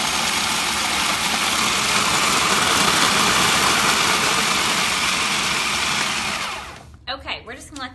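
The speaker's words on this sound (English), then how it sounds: "I might pulse it a little bit longer because some of these are big" A food processor pulses Oreo cookies into fine crumbs with a loud, continuous whirring grind. The motor cuts off near the end and a voice follows.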